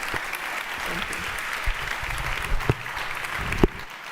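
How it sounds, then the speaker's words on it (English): Audience applause at a 2023 stage event, steady dense clapping throughout with a few louder sharp claps standing out near the end, fairly close and alone without talk. "Please give them a loud round of applause"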